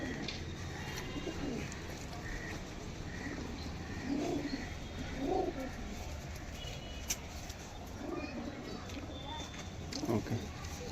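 Pigeons coo softly in low, repeated rolling bursts, faint and somewhat distant, while someone talks over them almost continuously.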